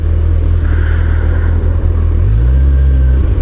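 A Honda CBF1000 motorcycle engine idles and cruises with a loud, steady low rumble, its pitch rising slightly toward the end as the revs climb.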